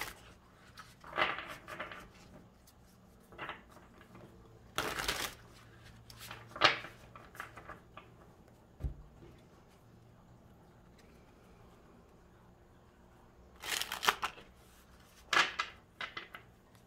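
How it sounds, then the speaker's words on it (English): Tarot cards are shuffled by hand in quiet, close bursts of riffling and slapping, with several separate shuffles split by pauses and softer handling sounds in between. "I'm going to shuffle a little bit of the cards before I timestamp"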